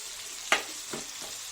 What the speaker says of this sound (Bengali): আমার আলুটা ভাজা হয়ে যাক